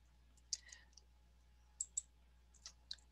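A computer mouse clicks in sharp, isolated clicks, a few scattered singles and a close pair, quiet and close against a faint steady hum.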